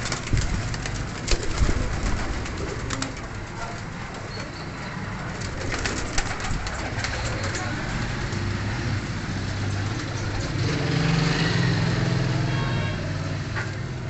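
Pigeons kept for sale coo steadily amid a busy outdoor background in Faisalabad with faint traffic and rustling, continuing throughout without talk.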